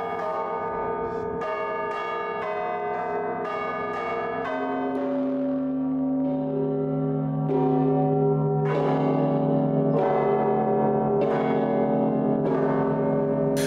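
Bells of an ensemble in a monastery bell tower peal continuously, with a rapid sequence of high strikes followed by deeper, overlapping tolls that ring out and sustain, loud and full throughout with no voices.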